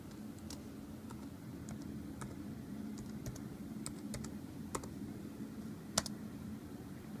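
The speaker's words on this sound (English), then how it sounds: "Type in my password." Quiet computer keyboard typing as a password is entered, a scattered series of soft clicking keystrokes over faint room hum, with no talking.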